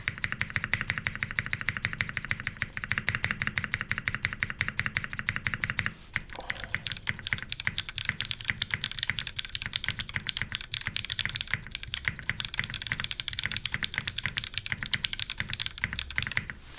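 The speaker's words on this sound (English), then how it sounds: "Let's hear this DCS spacebar one more time." DCS spacebar on a Flybeck Zoku mechanical keyboard pressed in a rapid, steady stream of close, loud thocking clacks, with a short pause partway through before the rhythm picks up again.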